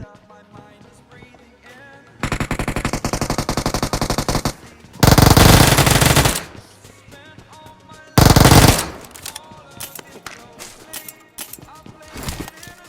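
Bursts of automatic gunfire in the BGMI battle royale game: rapid loud volleys, one sustained and two shorter heavy bursts, between quieter stretches of game ambience with faint background sounds.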